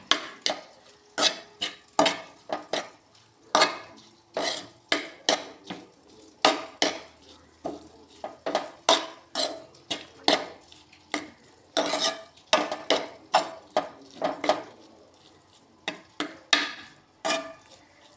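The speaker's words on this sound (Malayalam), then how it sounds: "ഇനി അരപ്പ് അതിലേക്ക് നമുക്ക് ഇളക്കി കൊടുക്കാം" A spoon scrapes and knocks in a pan as spice paste is stirred into jackfruit seeds over a gas flame, giving repeated sharp clinks in an uneven rhythm, close and fairly quiet, with no voices.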